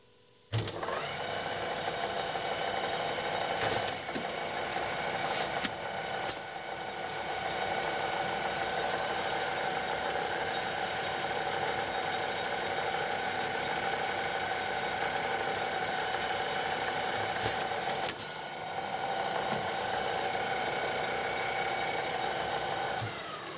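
A vintage lathe profiles engine valves with light cuts, producing a constant close mechanical whir and drone that holds steady throughout, with a few sharp clicks near the start and middle.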